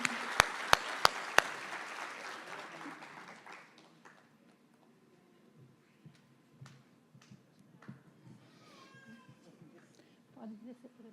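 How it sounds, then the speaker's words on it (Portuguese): An audience at an award ceremony for writing and drawing prizes applauds for about three seconds. After a few sharp knocks, the clapping fades into quiet room noise and scattered voices. "Vamos aplaudi-las, né, gente?"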